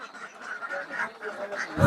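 Ducks quack in a quick, repeated series of nasal calls, fairly close, ending with a brief louder thump.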